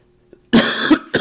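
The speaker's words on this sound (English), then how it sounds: "Oh boy, I'm tired of coughing." A person with heavy congestion coughs twice in close succession, loud and near, followed by the start of a third cough.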